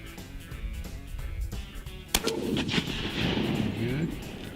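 A shotgun fires once while turkey hunting in the Carolinas, a single sharp loud blast that rolls into a lingering outdoor echo, with birds and a voice heard faintly before the shot.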